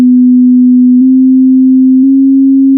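A pure electronic tone from a Falcon PEMF system frequency sweep holds steady and loud, rising slightly in pitch in small steps over a few seconds.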